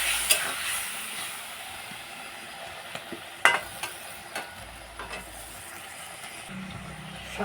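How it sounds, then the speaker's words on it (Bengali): Spice paste being stir-fried with potatoes in a pan, a soft steady sizzle with scattered clinks and scrapes of a spatula against the pan. "এখন এই মশলাটাকে ভালোভাবে আলুর সাথে কষিয়ে নেব।"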